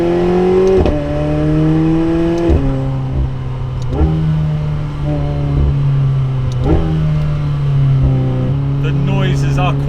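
A McLaren 750S Spider engine revs repeatedly on a mountain pass, its pitch climbing and dropping between gear changes, loud and close throughout.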